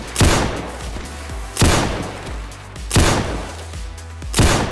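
Gunshots in the Roblox game Zulu Wars ring out loud and close, four heavy booming shots spaced evenly about every second and a half, each with a rumbling tail.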